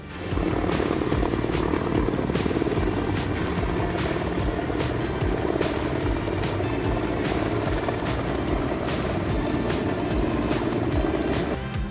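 Helicopter airlifting a power line tower, a loud steady rotor roar with regular blade thumps running through the whole stretch without pause and no voices.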